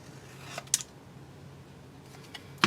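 Freehand scissor cuts through paper for a Halloween craft project, a few sharp, close snips spaced apart against a quiet background hum.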